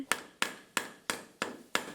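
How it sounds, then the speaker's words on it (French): Nails being hammered into a floor as a sound effect: six sharp, evenly spaced hammer blows, close and clear, each ringing briefly before the next strike. "Elle met des clous au sol."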